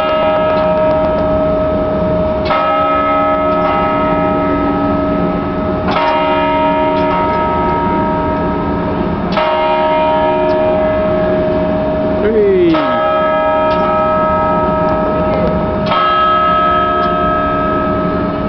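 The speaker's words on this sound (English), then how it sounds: "There's the bell, dinner time." A large church bell in the tower of St Mark's Basilica in Venice tolls loud and near, with repeated strikes every few seconds whose deep, ringing overtones overlap and sustain between hits.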